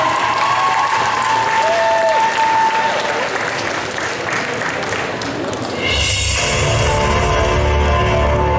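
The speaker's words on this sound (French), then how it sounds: "On applaudit s'il vous plaît." Loud, dense applause and cheering from a crowd at a cosplay contest as a Princess Peach contestant takes the stage, sustained throughout with a brief swell of music near the end.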